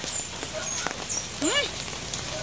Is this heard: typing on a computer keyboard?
no